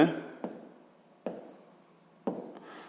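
A pen writes edge letters on paper during a Grade 6 geometry exercise, with three short scratchy bursts of strokes, each fading out, close and fairly quiet.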